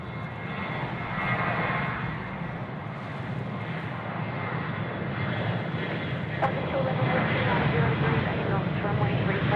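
A Qantas airliner rolls for takeoff at Sydney Airport, its engines a loud, steady roar that swells toward the end, with people talking over it.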